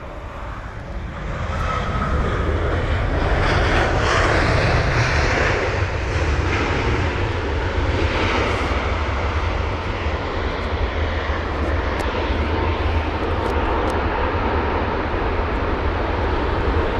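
A KLM Boeing 737 jet airliner at London Heathrow roars steadily and loudly for the whole stretch, a broad continuous engine rumble with a high whine, close by and alone with no talking.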